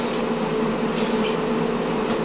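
Light spray-can bursts of primer on a handmade model, three short hissing puffs with the middle one longest, heard over a steady background hum.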